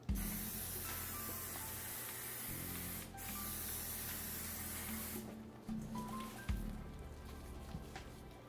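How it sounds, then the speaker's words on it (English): A continuous hissing of cooking spray onto a baking sheet runs in long bursts with brief pauses between them, close and fairly loud. "a cookie sheet that's sprayed with canola oil or any kind of cooking spray"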